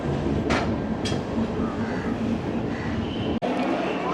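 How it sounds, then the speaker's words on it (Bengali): Howrah–New Delhi Rajdhani Express 12301 pulling into platform 1 at Kanpur Central station: a loud, steady rolling rumble of the train with a few brief airy bursts and one short dropout near the end, no speech. "1 নম্বর প্ল্যাটফর্মের ট্রেন আমাদের প্রবেশ করছে"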